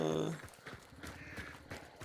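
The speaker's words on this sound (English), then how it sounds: "Horse over there." Horse hooves clip-clop in a video game, a quick run of close, evenly spaced thuds over a low ambient bed, with a faint whinny-like tone at the very start.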